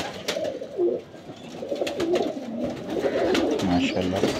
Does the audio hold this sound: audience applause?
no